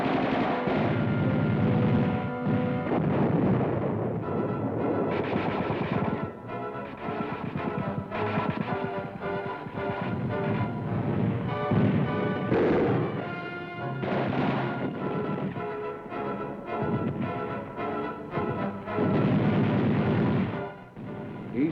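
Military gunfire during a house-to-house assault on buildings, repeated booming shots and bursts in an irregular rhythm, loud and dense throughout, with no voices.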